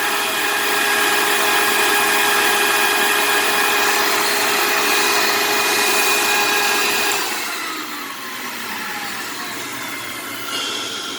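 A record cleaning machine's vacuum arm runs with a steady, loud whine and rushing suction, holding constant before dropping to a lower, softer hum partway through.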